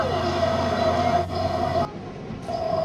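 A steady, loud rumble of a New York subway train riding toward Jackson Heights, Queens, with a constant hum and a brief dip near the end, no talk.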